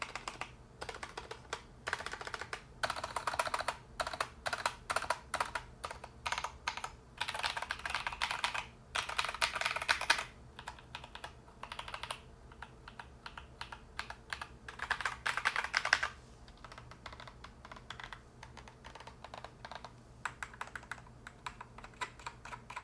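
Rapid typing on a Logitech G Pro X TKL mechanical keyboard, a steady stream of crisp clicky keystrokes in bursts with brief pauses, close up and alone.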